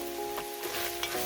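Lasagna soup ingredients seasoned with black pepper are stirred in a hot pot, giving a close, steady sizzle broken by a few soft scraping stirs, with no voices.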